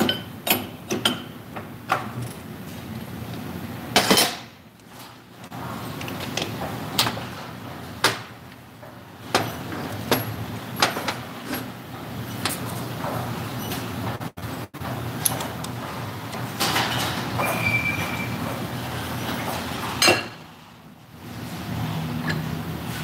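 A brake lathe turns brake rotors with a steady mechanical whir, broken by sharp clicks and knocks and by brief pauses in the machine noise.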